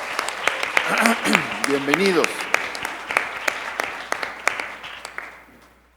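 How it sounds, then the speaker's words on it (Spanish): Audience applause fills a chamber of the Mexican Senate, a dense patter of clapping with a few sharper claps standing out, while a speaker talks over it and the clapping thins toward the end. "Un aplauso para todos"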